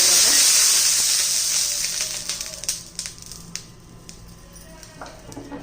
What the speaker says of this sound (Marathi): थोडं आता त्याच्यावर पाणी शिंपडेल म्हणजे जो काही ताव असतो ना तो कमी होतो